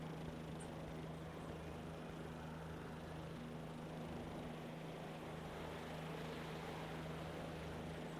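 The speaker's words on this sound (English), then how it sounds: "Sounds like a helicopter. Okay, yeah, the helicopter's coming. It's dropping off supplies." Helicopter arriving to drop off supplies in the video game Signal Simulator, a faint, steady droning engine hum with low tonal drone lines, distant and unchanging under a windy hiss.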